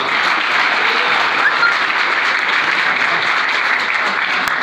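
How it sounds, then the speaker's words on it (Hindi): Hall audience at a school annual exam results and prize distribution ceremony claps loudly and continuously, a dense, even roar of many hands with no break and no voices over it. "जोरदार तालियां नहीं बज रही"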